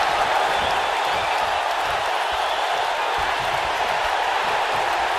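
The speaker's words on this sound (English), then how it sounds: "the crowd is loving Sasha's act" Crowd noise from a WWE 2K19 tag-team wrestling match: a steady, loud wash of cheering and applause from an arena audience, continuous throughout without letup.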